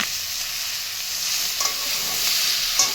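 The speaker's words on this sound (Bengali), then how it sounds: "তরকারিতে একটু ভালো করে নাড়াচাড়া দিয়ে নেব, আর একটু কষানো হবে।" Curry fries in oil in a pan as it is stirred, giving a steady bright sizzle with a few light scraping and clinking strokes from the spoon.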